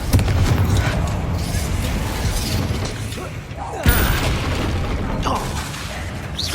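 Blasting spells in a Harry Potter video game set off a steady roar of booms and crashing debris, loud and continuous, with one sharp burst near the middle.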